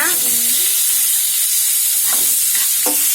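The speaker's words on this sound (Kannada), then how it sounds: "ಈಗ ಸಣ್ಣದಾಗಿ ಹೆಚ್ಚಿರೋ ಸೀಮೆ ಬದನೆಕಾಯಿ ಹಾಕೋಣ." Finely chopped chayote goes into a hot pan with urad dal, chana dal and turmeric, setting off a loud, steady sizzle with a few bursts of stirring and scraping, and no voices.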